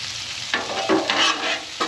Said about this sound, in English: Got a good little sear on it now.